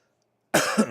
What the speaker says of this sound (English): coughing directly into the mic